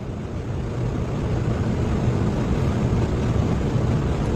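A Toyota Fortuner SUV pulls away with a steady low rumble of engine and road noise, close and constant, mixed with some wind buffeting.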